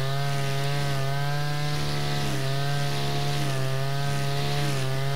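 A brush cutter spinning a nylon cord cuts through tall overgrown grass, giving a loud, steady high-pitched engine whine that holds constant without pause.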